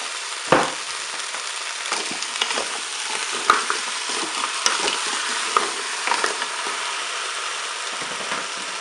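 Potatoes and spinach cook in a Cookeo, a soft steady sizzle with occasional stirring scrapes and light knocks close by, no talk.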